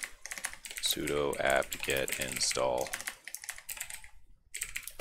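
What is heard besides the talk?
typing on a computer keyboard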